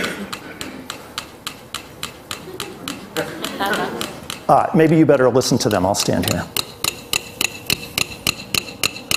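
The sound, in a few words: two small metronomes ticking on fastest setting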